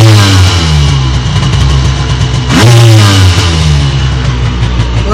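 A Piaggio Ape three-wheeler's small engine, fitted with a Parmakit kit, runs loud and close with the choke on, idling roughly then revving up sharply around the middle before dropping back to a steady chugging idle.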